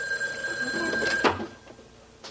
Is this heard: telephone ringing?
yes